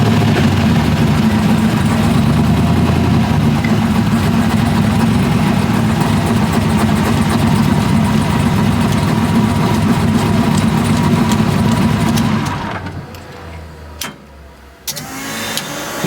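A drag car's engine runs at a loud, steady idle with a deep rumble for about twelve seconds, then cuts off abruptly, leaving near silence broken by a few clicks and knocks.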